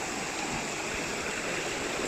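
A hidden waterfall in Wicklow rushes steadily and loudly, a dense, unbroken roar of falling water with no other sound above it.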